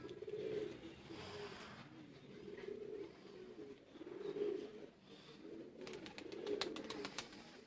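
Teddy pigeons give soft, repeated throaty coos in a slow, regular rhythm, faint and close, with a burst of light fluttering or scratching near the end.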